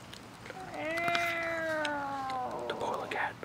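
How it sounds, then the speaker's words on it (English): Outdoors, cats confront each other with one long drawn-out caterwauling yowl that rises and then slowly falls, close and fairly loud, ending in some rustling. "The human cat is attacking the polar cat."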